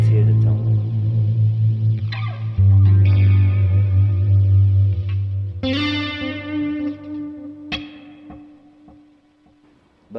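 Electric guitar played through a GP5 multi-effects preset with distortion, chorus and reverb, sustained chords and notes ringing out, then the reverb trails slowly decaying into near silence at the end.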